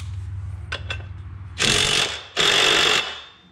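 An impact wrench drives a 15 mm bolt on the clutch of a Polaris RZR Turbo, giving two loud, close, rattling bursts of hammering after a few light metallic clicks, with no talk.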